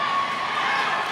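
Crowd cheering at a roller derby playoff bout, a brief continuous wash of many voices, steady and moderately loud.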